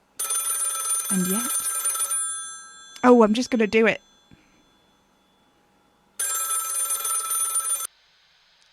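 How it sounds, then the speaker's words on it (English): An old-style telephone bell rings in two long bursts separated by a pause in a radio studio, and a person speaks briefly between the rings. "The phone in the studio that I'm sure was not here just moments ago is ringing."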